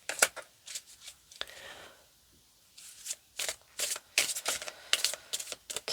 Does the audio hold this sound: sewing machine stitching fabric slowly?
no